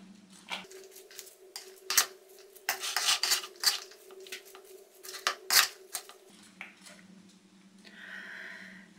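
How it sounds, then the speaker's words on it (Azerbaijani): A spoon stirs vinaigrette beet salad with added refined oil and salt in a bowl, making a series of close clinks and scraping clatters in irregular bursts over a low steady hum. "Bir az da duru yağ əlavə edirik. Yaxşı-yaxşı qarışdırırıq."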